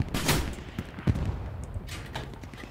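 Gunfire in the World War II shooter Hell Let Loose: several sharp shots crack at moderate distance in quick, irregular succession over a low battlefield rumble.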